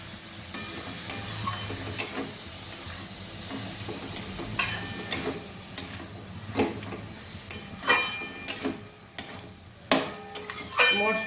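Spiced banana flower and prawns get stirred and fried in a pan, with a steady sizzle under repeated scraping and clinking strokes of a spoon against the metal, close up and with no talking.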